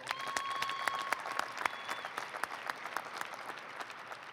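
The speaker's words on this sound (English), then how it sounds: "Let's give them a round of applause." Applause fills a high school graduation ceremony, a crowd clapping steadily from a distance with a few brief whistles rising above the clapping before it slowly tapers off.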